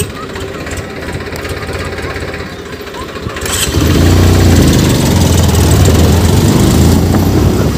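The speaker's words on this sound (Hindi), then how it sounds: "बाइक से जाने वाले हैं और फिर चलते हैं, फिर स्टार्ट करते हैं" A motorbike in a village in Darbhanga, Bihar, starts up. A low, uneven idle or cranking sound is followed by a louder, steadier engine drone that runs close by for several seconds.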